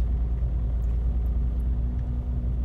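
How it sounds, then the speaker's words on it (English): Car engine idling while warming up, a steady low rumble heard up close and alone, with no talking. "Finish warming up already, you stupid car."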